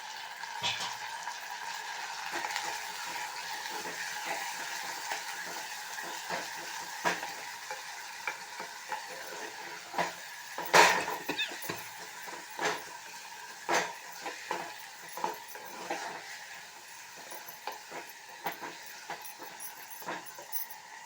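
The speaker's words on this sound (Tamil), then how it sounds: "இப்போது நல்லாவே நம்ம வதக்கிடணும்." Continuous sizzling and crackling of tomatoes and curry leaves sautéing in a hot pan, punctuated by repeated scraping and stirring clatters, with no talking.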